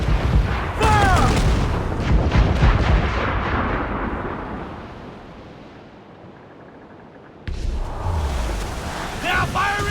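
Heavy ship cannons boom in a broadside during an Assassin's Creed Black Flag naval battle, loud deep blasts over rolling sea and wind, fading to a lull before another burst of fire; shouting voices are mixed in.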